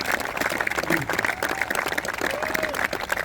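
Steady crowd applause for Vietnam era veterans at a memorial ride gathering, with many hands clapping continuously at moderate distance and faint voices mixed in.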